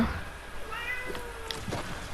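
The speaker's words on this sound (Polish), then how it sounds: "zaraz kota muszę z pokoju wypuścić" A house cat meows indoors in a room, a few short mid-pitched calls heard faintly under game sounds, with no talking.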